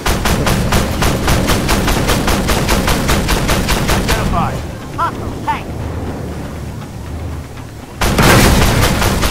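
Tank cannon and gunfire from the video game Armored Warfare, a rapid train of loud, evenly spaced booming shots that stops abruptly, leaving quieter rumbling with faint tones, then resumes loudly near the end.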